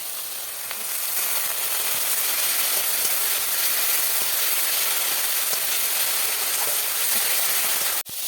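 Cumin, chili paste and a splash of water hit hot oil in a pan for a fish curry, producing a loud, continuous close-up sizzle and hiss that holds steady, with no talk.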